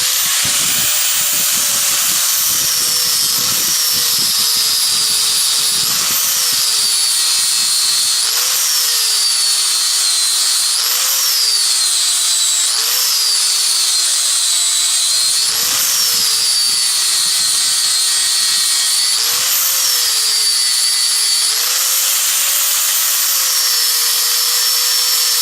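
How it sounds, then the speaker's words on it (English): Angle grinder fitted with a flat disc smoothing a forged steel sign bracket, a loud continuous high whine that dips and recovers in pitch in repeated passes as the disc loads against the metal. "We'll take a flat disc and some grinder."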